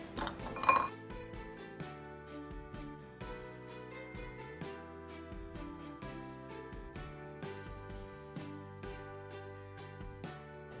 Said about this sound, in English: we're just gonna take these ornaments, leftover ornaments, and place them in the bowl